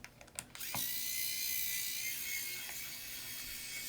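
A screwdriver working the drive screws out of a Dell Inspiron 15 5378 laptop: a few soft clicks, then a quiet, steady, high-pitched ratcheting whir from an electric driver running for several seconds, close up, without talking.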